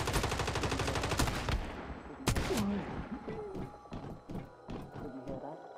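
Rapid automatic gunfire rattles in a fast, dense burst in the survival MMO Once Human, then single shots and thuds follow more sparsely, with in-game voices shouting over the combat.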